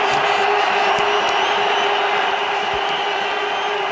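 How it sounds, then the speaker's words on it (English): A huge cricket crowd roars wildly at an India vs Pakistan Champions Trophy match after a big six, a loud, dense, continuous wall of cheering that never lets up. "The crowd go berserk."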